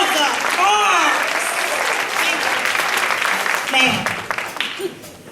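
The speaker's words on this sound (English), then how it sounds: "Give another round of applause for Miss Honorable Rosa Parks" Sustained applause from a television studio audience honoring civil rights figure Rosa Parks, with a voice singing or speaking over the start and cheers and a voice near the end as the clapping tapers off.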